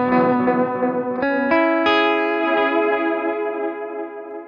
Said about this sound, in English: How does it go with a bit of delay?